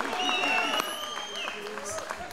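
A crowd claps and cheers for a putt at a disc golf tournament, moderate applause heard from a distance under a commentator's voice.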